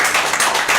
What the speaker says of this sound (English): You can give him a little applause